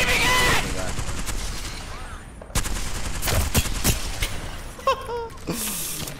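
Gunfire from a weapon in the battle royale game Apex Legends, with several loud sharp bursts and clattering shots spread across the moment, mixed with other game effects.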